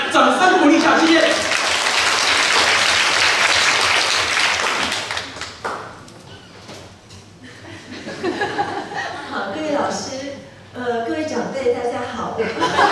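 Audience applause fills a lecture hall at a public-speaking teacher training workshop at Shih Hsin University: dense, loud clapping for about five seconds, then a speaker talks amid scattered chuckles and a brief second burst of noise.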